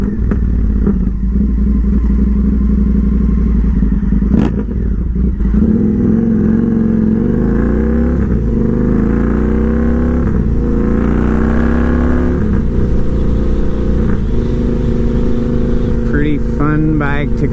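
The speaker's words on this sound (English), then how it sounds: "I love the sound of this now in low RPM, at idle, at mid RPM." An Indian FTR 1200 V-twin motorcycle with a full Toce exhaust and tune runs loud and close, a deep rumbling idle rising and falling through revs, with a few sharp mechanical clacks near the end.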